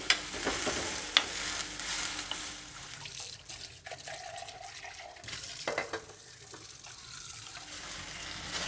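Ridge gourd frying with garlic in a pan, a faint, steady sizzle with a few soft scrapes and knocks as it is stirred.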